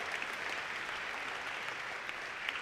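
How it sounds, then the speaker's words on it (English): Audience applause at a live on-stage pageant competition in a theater, a dense, steady wash of many hands clapping that holds at an even level throughout, with no talking. "So let's give a round of applause for all of these amazing sponsors."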